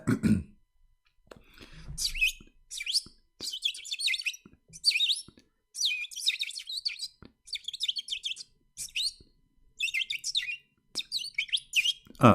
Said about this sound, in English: This is a green bird.